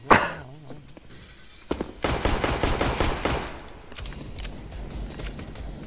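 Rapid bursts of gunfire from the video game Counter-Strike: Global Offensive, including a Desert Eagle pistol, crack in a dense cluster that is loud in the middle stretch, with a few sharper separate shots before and after.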